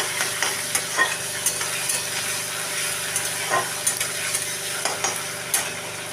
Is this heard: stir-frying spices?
yes